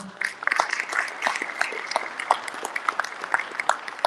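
Audience applause at a citywide men's meeting, a moderate spread of clapping that runs steadily throughout with a few sharper claps standing out, fairly close and moderately loud.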